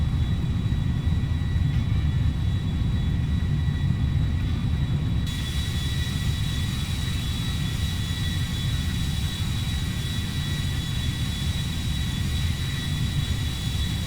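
Steady, loud roar of a Boeing 747-100 jumbo jet in flight in the game GTA V, a constant low engine drone with a thin high whine running unbroken throughout.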